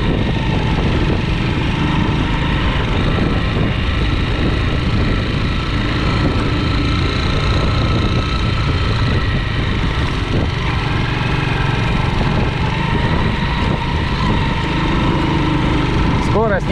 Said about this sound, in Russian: Но мотоцикл тянет отлично.